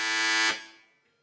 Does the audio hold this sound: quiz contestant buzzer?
yes